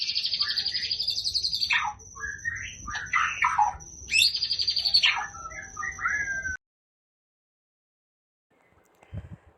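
A tame white-rumped shama sings loud, close, varied whistles and chirps in quick bursts, then goes silent, followed by a faint brief rustle.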